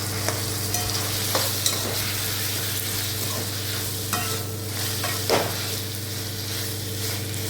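Tomato and onion with rock salt sautéing in a pan, a loud steady sizzle with a constant hum beneath and occasional sharp scrapes and knocks of the stirring spoon.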